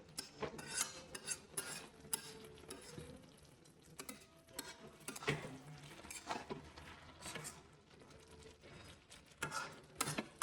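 A spoon stirring cabbage curry cooked with a fish head in a pan: quiet, irregular scraping and clinking over a soft sizzle, continuing throughout without voices.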